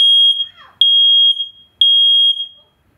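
Nest Protect 2nd generation smoke alarm sounding its smoke test siren: three loud, piercing, pure-tone beeps about one second apart, very close, with silence between them.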